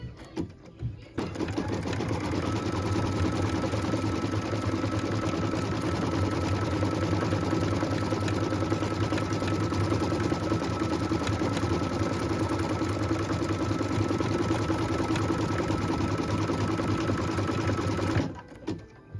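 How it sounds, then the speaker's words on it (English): A sewing machine stitches a tack-down line on a felt Christmas tree skirt, a steady fast mechanical whir and needle chatter that starts after a moment, runs continuously, then stops near the end. "go ahead and stitch the tack down line"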